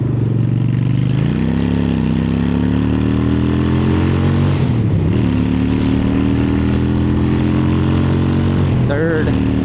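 A Honda Shadow 750 Aero chopper fitted with a velocity stack accelerating in second gear, a loud, close engine drone rising steadily in pitch with a brief dip and recovery, while a rider talks over it.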